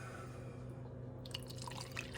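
Broth is poured into a pureed red enchilada sauce, giving a faint liquid trickle and splash with a few soft drips near the end, quiet and alone.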